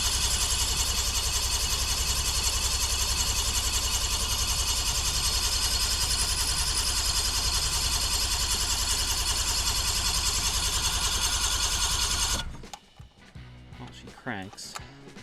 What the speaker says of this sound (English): I just want to see if it's gonna crank.